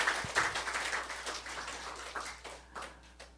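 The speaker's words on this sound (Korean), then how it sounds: "우리 하나님께 박수 올려드려요" A church congregation claps together after a Sunday sermon, a soft, scattered patter of many hands that thins out and trails off into a few last claps.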